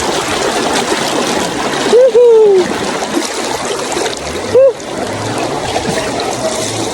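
Steady trickling and splashing of flowing river water while bathing, close by, with a couple of brief whoops or voiced exclamations rising over it.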